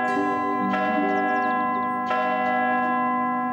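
A church bell rings in a quiet village in the Postman Pat kids' cartoon, with two clear strikes and a long, sustained humming resonance between them, loud and alone.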